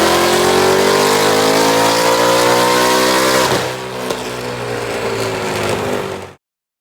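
A 2018 Whipple supercharged Mustang engine on a tuning run revs hard and loud, pitch climbing steadily, then drops and winds down before cutting off abruptly.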